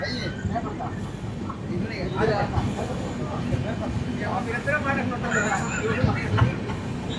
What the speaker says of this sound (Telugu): నడికుడి జంక్షన్కి మన ట్రైన్ ప్లాట్ఫామ్ 1కి అయితే వచ్చింది